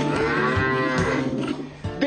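Dairy cattle low with loud, sustained moos close by on a farm, one long drawn-out call filling most of the stretch and a shorter call at the end, with no talking.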